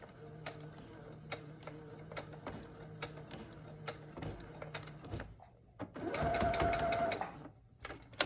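A sewing machine stitches along a braided children's-size headband, its needle chattering in a steady fast rhythm with periodic clicks, then a brief louder burst of backstitching near the end before the motor stops.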